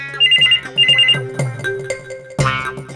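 A mobile phone ringtone plays loudly in a home, a bright repeating melodic tune with a short pause before it starts again.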